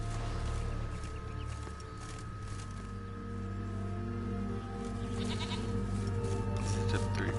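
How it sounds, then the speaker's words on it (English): Billy goats in The Witcher video game bleat over a steady droning game soundscape, the calls blending with a continuous hum for the whole stretch. "This is just 3 billy goats"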